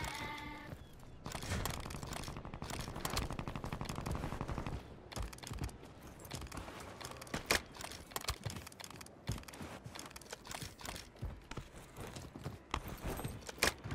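Gunfire in Warzone 3 on Rebirth Island, rapid bursts of automatic shots and sharp single cracks scattered through the clip at moderate distance, with no talk heard.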